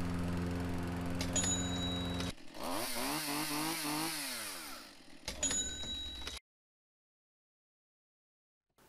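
Loud power tools whine and roar, a high-pitched saw shifting into a warbling router drone, then cutting off abruptly to silence.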